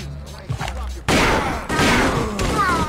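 Gunfire in the video game Kingpin: after a quiet moment, loud close shots burst out around the one-second mark and again later, each followed by a ringing, decaying tail.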